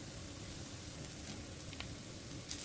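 Onion sizzles softly in a pan as ginger paste and garlic paste are added, a faint, steady frying hiss with a few small crackles and no talk.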